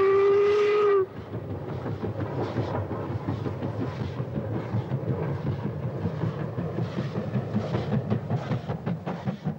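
A steam train on a remote scenic railway in northwest Scotland gives a brief whistle, then chugs and clatters along in a steady rhythm at a moderate distance.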